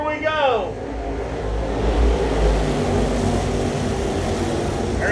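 Dirt late model race cars on a banked dirt track roar steadily as the green flag drops for a green-white-checkered restart, a loud continuous engine drone with a brief rising whine at the start.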